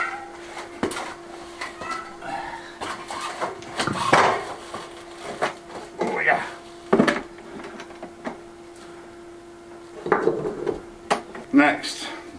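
Stones are set in place to rebuild a wall, producing irregular hard clunks and knocks, some sharp and close, spread across the stretch over a steady low hum.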